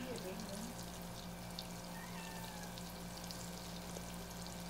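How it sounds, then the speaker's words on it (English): Flaming hot mozzarella sticks sizzling in hot frying oil, a steady close crackling hiss with a low hum underneath and no talk over it. "we're just going to let this sizzle and get to cooking."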